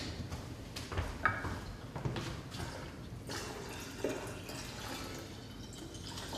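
Water is poured into a lemon juice mixture while cooking, giving a steady soft liquid pouring and dripping sound, close by, with a few small clinks and no talk.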